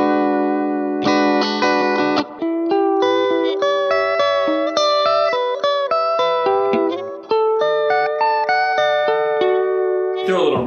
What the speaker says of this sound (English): it essentially is a kind of warpy, detune-esque vibrato, and it just kind of has a magical sound